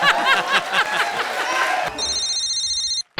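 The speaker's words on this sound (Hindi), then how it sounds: "फोन आया।" A telephone rings with a repeated electronic tone, loud and close, cutting in after excited laughter and chatter on a Hindi comedy stage show; the ringing continues steadily for over a second before a brief dropout.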